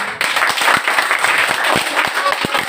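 Loud group clapping: a steady wash of applause with sharper individual claps standing out in a loose rhythm throughout.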